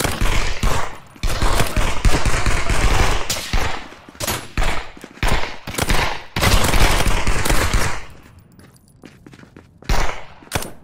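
Loud, close automatic gunfire from the VR shooter game Contractors rattles out in long sustained bursts separated by brief pauses, with no voices over it.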